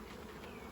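Honeybees at a hive drone in a steady, continuous buzz, close and even, with no voices.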